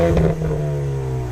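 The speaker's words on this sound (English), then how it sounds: "with the EcoBoost Performance Package, you've got this active valve exhaust that comes straight from the GT" A 2020 Ford Mustang EcoBoost with the Performance Package and active valve exhaust revs loud and close, a brief throaty burst that settles into a falling, humming engine note.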